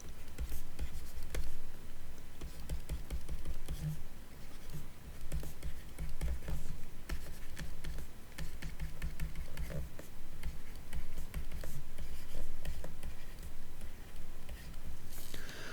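Pen or chalk scratches and taps steadily while math equations are written out by hand during a lecture on unconstrained optimization, with close, continuous strokes and short pauses throughout.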